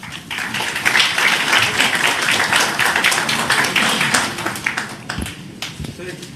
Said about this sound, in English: Let's give a big applause to this forum.